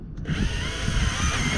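Power drill boring a hole into a plastic kayak hull, a short continuous whirring grind, close and fairly loud, with no speech.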